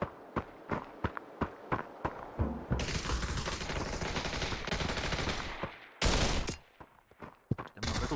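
Gunfire from a weapon in the VR shooter Population: ONE, starting as a run of sharp single shots and then turning into sustained automatic bursts. It is loud and close, with a brief pause and a final burst, and no talk over it.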